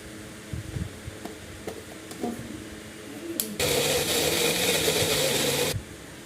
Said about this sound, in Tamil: மிக்ஸி ஜாரில் போட்டு இதை நல்லா மையாக பேஸ்ட் மாதிரி அரைச்சிக்கலாம்.